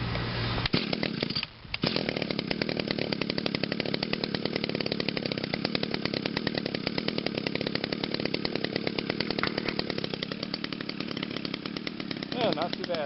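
A petrol string trimmer runs steadily and loudly after a brief start, with only a short dip early on, its engine buzzing continuously at close range.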